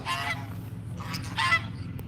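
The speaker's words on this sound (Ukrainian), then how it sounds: "Ні, це гусак іде." Goose honks in two or three bursts against a steady low background rumble, moderately loud and fairly close.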